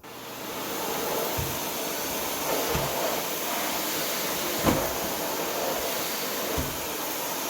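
A Miele C1 Classic canister vacuum with its carpet setting on runs steadily over an area rug, giving a continuous broadband whoosh of suction with a few soft bumps and thuds as the head drags along.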